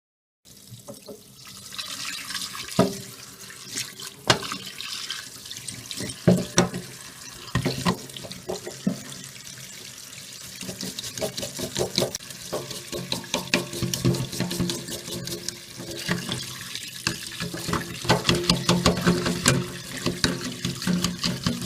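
Tap water runs steadily into a sink while a Zanussi washing machine filter is rinsed and brushed underneath, with splashing and intermittent scrubbing clatters; no voices.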